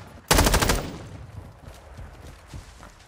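Gunfire in Call of Duty: Warzone 2.0: a loud rapid burst of automatic shots lasting about half a second, followed by faint scattered sounds and quieter distant pops.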